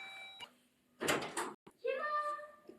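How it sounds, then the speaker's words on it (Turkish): A door in a house opened with a short, noisy creak and scrape, followed by a voice speaking nearby. "Kapıyı açtık arkadaşlar."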